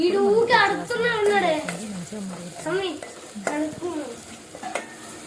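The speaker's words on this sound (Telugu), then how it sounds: "మంచిగా ఫ్రై అవ్వాలి రెడ్ రెడ్ కలర్లోకి రావాలి" Brinjal curry masala frying and being stirred in a pan, with a soft sizzle and scraping beneath a person talking over most of it.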